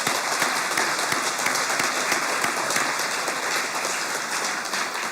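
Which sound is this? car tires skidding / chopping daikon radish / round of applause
round of applause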